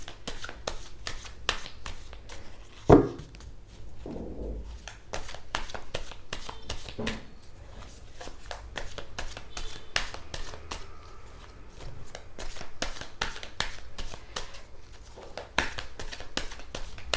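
Tarot cards being shuffled and drawn, a long run of quick, close riffling snaps and soft slides at an even pace, with one louder knock partway through and faint background noise.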